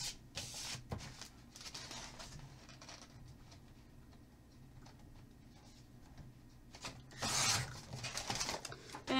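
Paper-cutting sounds on white card stock, a close series of dry rasping and rubbing strokes with brief sharper snips, loudest near the start and again toward the end, with no talking.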